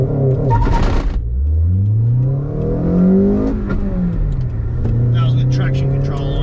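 A Honda Accord CL9 with a premium Exedy clutch launches hard on launch control with traction control on. The engine revs climb loudly and close, then dip at each of two gear changes and keep pulling upward.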